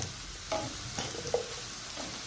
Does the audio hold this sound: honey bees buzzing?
no